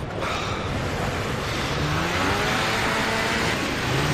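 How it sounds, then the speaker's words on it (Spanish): A snowmobile engine in the Far Cry 4 video game roars steadily at high revs, a loud continuous buzzing drone that holds for several seconds with no speech. "Arriba dejamos la moto de nieve de momento."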